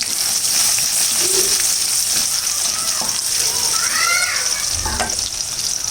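Cumin seeds and dried garlic hit hot oil in a pan for khichuri, giving a steady, close sizzle and crackle that runs right through with light stirring scrapes.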